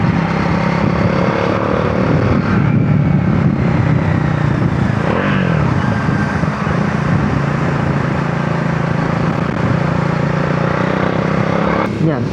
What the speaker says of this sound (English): I'll quickly switch to the engine sound and show you what that sounds like.